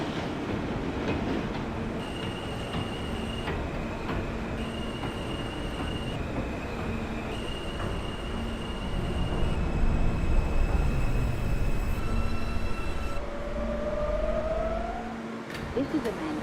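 An R160 subway train running on the J local line in the OpenBVE simulator game, a steady loud rumble of wheels and motors with sustained tonal whines, rising in intensity midway and ending with a descending squeal.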